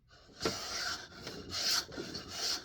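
A miter plane shaves soft pine in a few quick strokes, each a hissing, scraping rasp, close and quiet with no voices.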